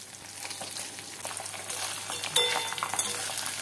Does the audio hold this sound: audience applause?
no